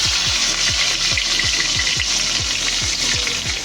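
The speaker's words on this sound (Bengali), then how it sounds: "আর একটু বেশি করে সর্ষের তেল দিয়ে এবার একটু কুচনো পেঁয়াজ ফোড়ন দিয়ে দিচ্ছি" Chopped onion fries in mustard oil in a wok with a loud, steady, dense sizzle and a low rhythmic scraping underneath, close and continuous, with no talking.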